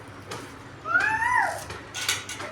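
A voice imitating a cat, giving one rising and falling meow in the middle, with faint clinks and other household noise around it.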